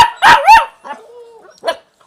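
A noisy dog in the Philippines barks twice in loud, close yelps, then gives a drawn-out whine and one more short bark.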